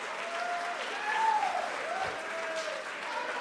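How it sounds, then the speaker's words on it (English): Audience applause for two New England heavyweight fighters after a fight, a steady wash of clapping from the crowd that swells slightly midway and keeps going under faint crowd noise. "I want a round of applause for both these fighters"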